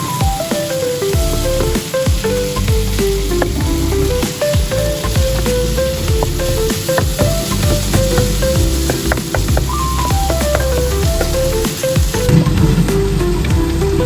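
Minced meat frying in a pan, a constant loud sizzle and crackle with spattering pops and a melodic music line running over it throughout, no talk.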